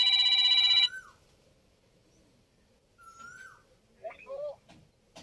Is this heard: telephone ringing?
yes